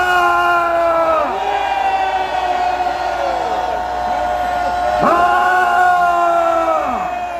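A large street crowd of protesters lets out a sustained, loud collective shout, a dense roar of many voices with rising and falling yells that swell again partway through.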